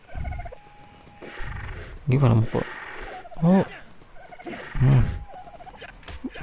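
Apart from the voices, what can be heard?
dodo bird calls in the video game Ark: Survival Evolved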